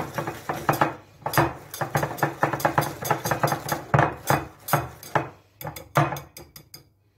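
Walnut-powder frangipane filling stirred in a bowl for a galette: a close, rhythmic series of clinks and knocks from a utensil striking the bowl, with a short pause before the stirring resumes.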